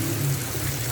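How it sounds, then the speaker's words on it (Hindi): Bean cooking water is poured from the boiled kidney beans into a pan of rajma masala, giving a brief, steady watery hiss with a low hum beneath it. "इसमें लोबिये का थोड़ा सा लोबिये का पानी,"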